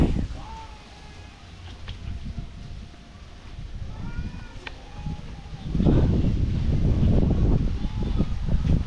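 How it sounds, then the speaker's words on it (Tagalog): Strong wind outdoors on a farm buffets the microphone with a low, rough rumble that swells into heavier gusts during the second half. "Lakas ng hangin."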